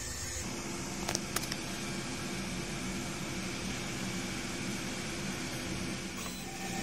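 A DTF printer runs a print head cleaning cycle with a steady, even mechanical whir and hum throughout, plus a couple of brief clicks near the start.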